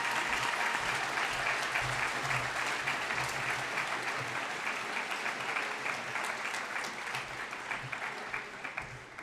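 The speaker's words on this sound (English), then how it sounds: "Please give a round of applause for your 9th grade recipients." An audience at a school awards day ceremony claps for 9th grade award recipients, a dense sustained round of applause from a crowd that slowly tapers off.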